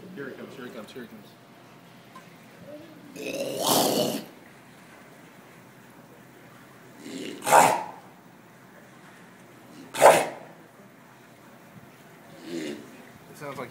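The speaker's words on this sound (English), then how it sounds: "Sounds like he's trying to hawk out of there." A sea lion hacks and hawks as if clearing phlegm, giving three or four short, raspy bursts spaced a few seconds apart against quiet background noise.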